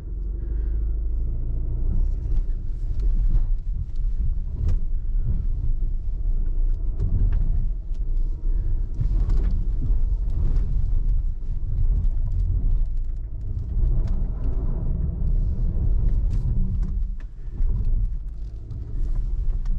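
A 2021 Kia Sorento crawls up an easy off-road line with the center differential locked, its engine rumbling low and steady with bumps and wind buffeting over about twenty seconds, no talk.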